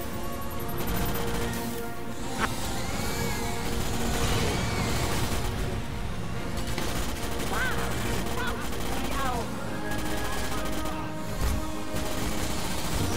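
Rapid gunfire from the Starship Troopers shooter game: dense, continuous shooting and impacts fill the whole stretch at steady loudness, mixed with in-game effects and possible voices.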